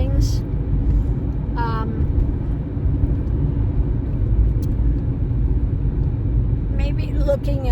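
A car rolls steadily along a road, its constant engine and tyre rumble filling the background at close range, with brief faint tonal squeaks over the drone.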